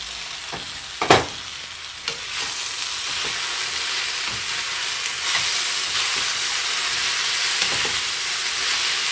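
Eggplants stew and sizzle in plenty of oil in a pan, making a steady close frying hiss with occasional soft clinks and stirring taps.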